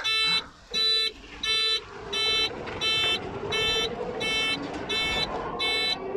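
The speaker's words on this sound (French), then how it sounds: "les clignotants, c'est pas forcément le plus pratique. Ça fait un bruit terrible" A turn signal indicator sounds a loud, harsh repeating beep, about nine even pulses, over a running car's rumble.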